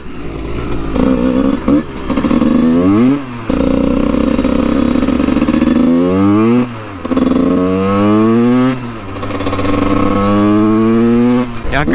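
A Husqvarna SM 125 motorcycle, started from cold, runs close by. It idles and revs up repeatedly, with rising and falling engine pitch and brief drops between revs.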